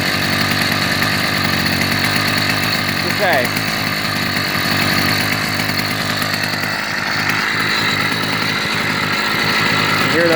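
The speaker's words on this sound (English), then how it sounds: "Hear those RPMs climbing." An 80cc motorized bicycle motor runs and revs loudly and steadily, its buzzing engine note filling the whole stretch at close range, with a brief spoken word partway through.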